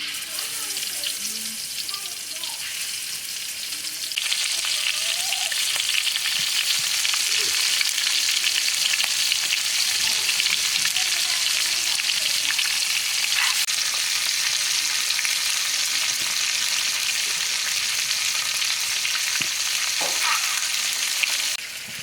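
Fresh pond fish frying in a pan in a village kitchen, a loud continuous hissing sizzle that intensifies after a few seconds, with faint stirring and a voice now and then.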